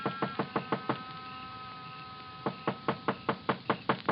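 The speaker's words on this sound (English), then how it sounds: "I knocked." Knuckles rap on a building's door in two bursts of about six even knocks each, separated by a pause of about a second and a half. The knocks are close, sharp and hollow, with faint room hum between the bursts.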